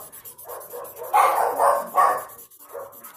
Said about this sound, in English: Ignore the dog, please.